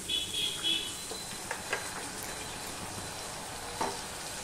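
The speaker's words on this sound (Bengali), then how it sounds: "মশলাটা কষানোর জন্য আমি একটুখানি জল দিয়ে দিচ্ছি।" Spice paste of ground coriander and cumin fries in oil after a splash of water for a Bengali paneer dish, a soft continuous sizzle with occasional light stirring scrapes.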